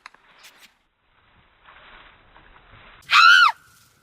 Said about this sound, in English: She accompanied this wild outbreak with piercing shrieks.